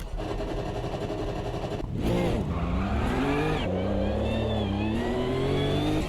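Nissan GT3 race car engine in a racing video game at the race start: a loud rough idle, then a sharp rev and a rising, climbing engine note as it pulls away, with other cars droning around it.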